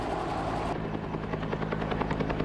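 An Army Cobra attack helicopter with a steady, rapid rotor chop and engine whine, loud and continuous throughout, with no talk.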